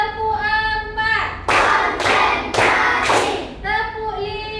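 Pupils in a classroom clap in unison for a spirit cheer, about four loud, evenly spaced group claps, with chanting voices before and after.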